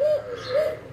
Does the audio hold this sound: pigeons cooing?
yes